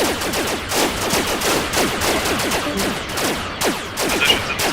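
Rapid, continuous blaster gunfire from Squad's Star Wars mod, a dense, loud barrage of overlapping shots hammering steadily throughout with no pauses.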